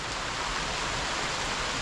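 Steady outdoor rain in Jamaica, falling while someone picks guinep in a tree, a dense broadband hiss that stays even throughout with no voices.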